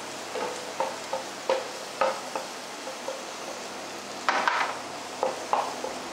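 Onions fry in a pan for a gupchup filling, a soft sizzle broken by several distinct scraping stir strokes and one louder clattering burst midway, with no talking.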